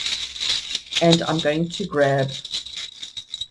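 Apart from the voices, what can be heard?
shuffling a deck of oracle cards by hand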